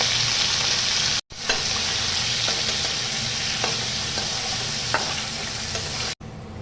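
Prawns sizzle steadily in a pan over a low gas flame, frying with a constant hiss and occasional soft scrapes as they are stirred, with two brief cuts to silence.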